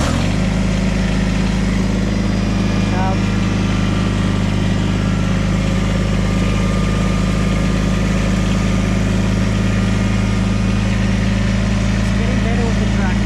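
A farm tractor engine runs steadily nearby, a loud continuous low rumble with a constant idle-like drone that holds unchanged from start to finish.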